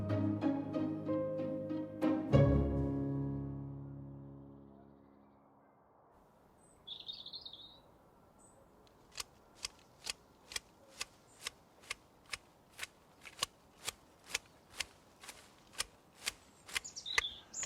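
Shears trim a potted poinsettia indoors in winter, giving a steady series of sharp, close snips at an even rhythm. A fading musical chord comes first, then a short chirp, and no one speaks.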